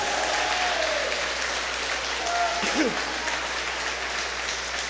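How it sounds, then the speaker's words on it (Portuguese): Steady, dense applause from a church congregation fills the whole stretch at even volume, with a few faint voices or shouts rising above it. "Aplauda esse amor agora"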